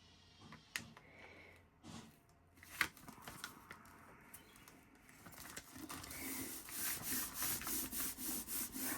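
Paper rubbed onto a paper bag journal by hand with light pressure: soft, close dry scuffing, scattered at first, then settling into a steady rhythmic back-and-forth rasp toward the end.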